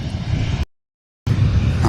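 A Hainan Airlines Airbus A330-300 departs from Manchester Airport, its broad, steady jet engine roar filling the air on both sides of a short gap of silence.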